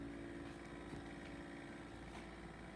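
An LG refrigerator makes a loud, constant rattling drone in a home kitchen, forceful enough to shake pictures on a wall in the next room. The mechanical buzz holds steady throughout, with no speech over it.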